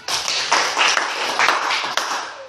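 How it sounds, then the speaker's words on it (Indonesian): Classroom students clapping together, a dense continuous patter of many hands, fairly loud and close, with little else heard. "Oke, baik. Tepuk tangan."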